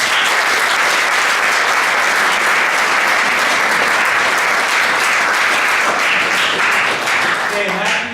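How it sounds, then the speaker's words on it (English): Loud, dense audience applause fills a football team banquet hall, steady for about eight seconds before tapering slightly at the end, with faint voices mixed in. "So please give them all a round of applause"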